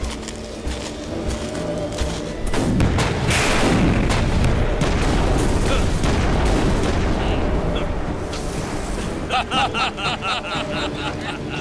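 In a Motu Patlu cartoon battle against a villain from Mars, loud gunfire and explosions boom and crackle continuously for several seconds. They fade into sharper rapid pops near the end.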